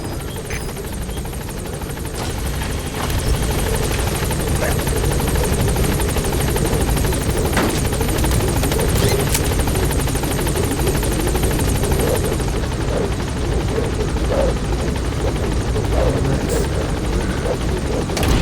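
Pequod helicopter in the video game Metal Gear Solid V hovering at a landing zone: a loud, constant rotor drone with rhythmic beating that stays steady and close throughout, with no talk.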